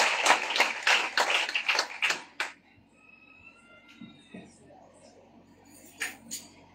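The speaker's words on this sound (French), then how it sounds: "Nous applaudissons Peter pour Dieu." A church congregation at a Sunday worship service claps in a fast burst of clustered handclaps lasting a couple of seconds, then it falls quiet and a voice speaks faintly.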